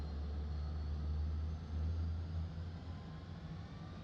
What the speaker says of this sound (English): Should hear the engine start to spin up now.